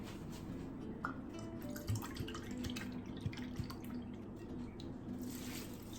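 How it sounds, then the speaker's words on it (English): Apple cider vinegar is poured into a measuring cup, giving a close, steady trickle of liquid broken by small drips and splashes, with quiet kitchen noise around it. "Get your apple cider vinegar and we're gonna pour in"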